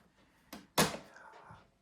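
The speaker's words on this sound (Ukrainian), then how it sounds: "викидається механічно, відкривається дверка, вставляєте касету, виймаєте" The cassette door on a Soviet Yauza 220 tape recorder with a dual-motor transport pops open mechanically, giving a soft click followed by a sharper, louder plastic clack and a brief rattle, close up with no talking.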